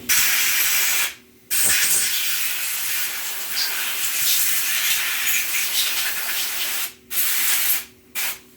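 A compressed-air blowgun blasts through the air passages of a Yamaha XJ650 Turbo carburetor in loud, steady hissing bursts, with brief pauses between blasts and a final pair of short bursts.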